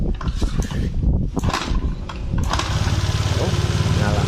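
A motorcycle starter whirs briefly, then the engine catches and settles into a steady, rapid putter. A voice is heard over the cranking at the start.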